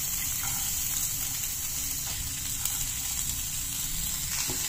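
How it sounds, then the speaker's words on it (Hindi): Cumin seeds and onion sizzle in a pan of hot ghee, a steady, close frying hiss that continues without pause and with no talking. "एक चम्मच हमने घी पैन में गर्म कर लिया है, थोड़ा सा डालेंगे हम इसमें जीरा, उसके साथ ही साथ डालेंगे हम इसमें प्याज"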